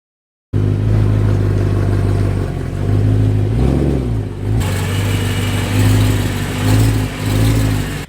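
A BMW E9X M3 engine hums loudly and steadily in a garage, rising and falling in pitch a few times as it revs, close by with no talking.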